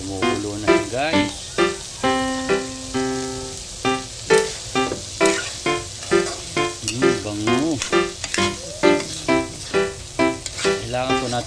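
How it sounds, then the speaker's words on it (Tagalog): Kilawin boiling and sizzling in a pan, a steady crackling bed with rhythmic pulses throughout, heard beneath a voice that talks over much of it. "Kumukulo na yan guys."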